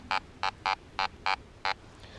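A Fisher F11 metal detector gives six short, sharp beeping target tones in an uneven rhythm, clean and close over a quiet background.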